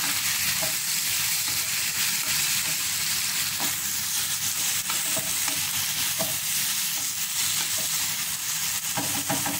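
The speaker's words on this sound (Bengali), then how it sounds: "এটা 2 থেকে 3 মিনিটের মতো নেড়ে যখন নরম হয়ে যাবে, মশলাটা হয়ে আসবে" Liver frying with spices in a pan while being stirred, a dense steady sizzle with faint scraping stirs, close and continuous without any voices.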